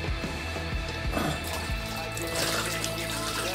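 Hot water runs from a tap during home colour film developing, a faint steady splashing stream with a few soft knocks at the start.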